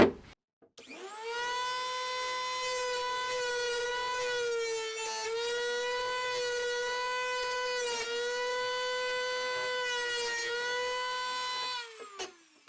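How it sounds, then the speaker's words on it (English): A high-pitched whining Dremel rotary tool shaving down the plastic lip of a mouse trap, steady and close for about eleven seconds with slight dips in pitch as it bites, then spinning down. "So I have a Dremel tool right here. We're gonna shave this down"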